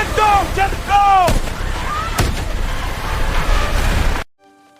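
Gunfire in a dramatized action scene, two sharp shots over a rumbling, noisy background with shouted voices and whooshing effects, ending abruptly in near silence.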